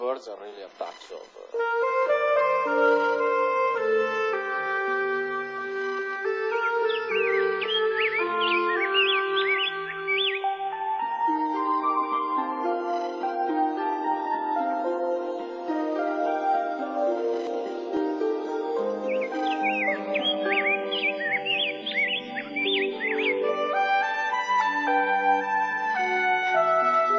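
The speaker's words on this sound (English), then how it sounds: "The birds are really a touch of..." Birds and crows caw and chirp in a busy layered chorus, running continuously alongside melodic tones in a computer graphics demo.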